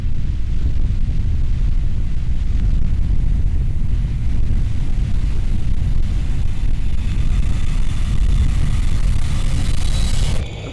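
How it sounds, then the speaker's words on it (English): A recycled rocket sound effect serves as an earthquake rumble: a loud, continuous low roar with broadband noise that holds steady for about ten seconds before cutting off abruptly. "this one I recycled my rocket sound from the previous project and used it as an earthquake"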